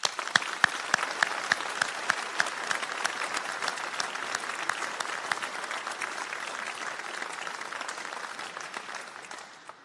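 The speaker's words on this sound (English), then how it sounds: "with a resounding round of applause," At an evening college graduation ceremony, the audience gives a long, dense round of applause, many hands clapping steadily for about ten seconds before it starts to fade.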